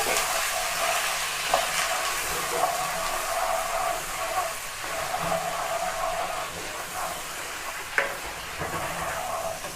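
Garlic and ginger paste sizzles in a pan for butter chicken while being stirred, a steady hissing fry with occasional soft clicks of the spoon, close up and without speech.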